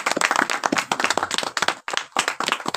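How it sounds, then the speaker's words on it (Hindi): Loud, dense clapping from a church congregation, sharp hand claps overlapping in an uneven rhythm that briefly drops out near the end before resuming strongly. "और जोरदार तालियां बजा दीजिएगा."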